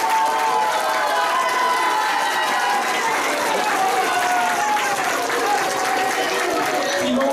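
A crowd applauds for a child receiving an award at a Dutch ceremony for two boys honored with a children's medal; a steady, continuous wash of clapping and crowd noise carries evenly throughout, close and fairly loud.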